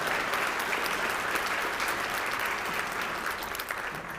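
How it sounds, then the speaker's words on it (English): An audience gives sustained, dense applause for a visiting delegation from Lamarck, a loud steady wash of clapping lasting the whole stretch and tapering slightly at the end, with no voices on top. "Let's give these folks a round of applause."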